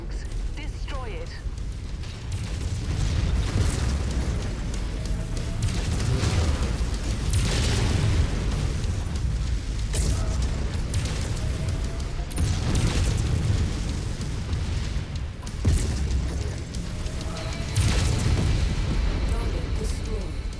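A destroyed tank in MechWarrior 5 bursts in heavy booming explosions amid continuous mechanical rumble and clanking, with several strong blasts spread across the clip and a voice speaking over the battle at times.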